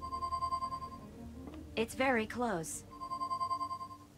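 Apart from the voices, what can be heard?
Pi-phone ringing while being located, from a video game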